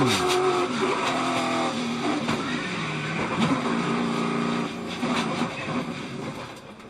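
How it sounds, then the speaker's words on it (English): Race cars pile up near the end of the Daytona 500, engines roaring and tires squealing through a loud, continuous rush of motor noise with sharp bursts of skidding and impacts, the racket dense and unbroken throughout. "Huge pileup near the end of the Daytona 500."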